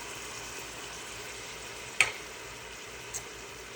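Green chili dropping into a pot of spinach, kale and lentil daal set off a steady hiss of frying oil, with one sharp crackle partway through and a smaller pop near the end.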